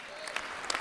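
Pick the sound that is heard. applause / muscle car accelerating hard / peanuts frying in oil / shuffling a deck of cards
applause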